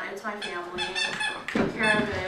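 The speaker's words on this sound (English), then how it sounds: "I'm sorry for the squeaking." A dog's squeaky toy or high whining squeaks repeat in the background of an indoor room, loud and continuous under a person speaking.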